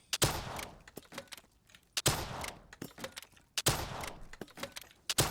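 Three loud, sharp rocket launches from the XM53 launcher in Call of Duty: Black Ops III, each a sudden blast followed by a roaring whoosh that fades, spaced about a second and a half apart.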